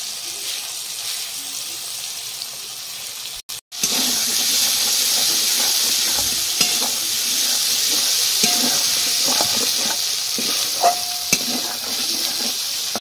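Tomatoes go into a hot pan of spiced dal-fritter and cauliflower curry with chilli paste and Kashmiri red chilli, hissing loud and steady after a brief gap, with stirring clicks and scrapes throughout.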